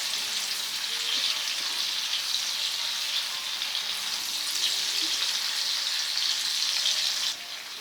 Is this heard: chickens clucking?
no